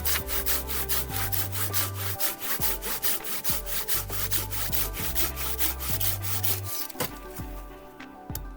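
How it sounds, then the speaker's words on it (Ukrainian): Close, loud back-and-forth rasping of a Silky Gomboy 300-10 folding saw with medium teeth cutting wood, a rapid even stroke rhythm that slows and finishes near the end, with no speech. "А зараз подивимося, як ця пила ріже дерево."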